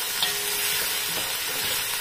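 Carrots and vegetables stir-fry in a pan for sotanghon noodles, with a continuous loud, close sizzle and scattered light stirring scrapes.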